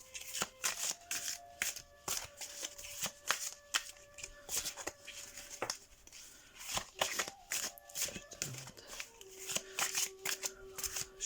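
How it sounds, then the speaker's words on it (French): Tarot oracle cards being shuffled by hand in a steady run of close, crisp riffling and slapping bursts, with no talk over them. "on va faire un petit mélange classique"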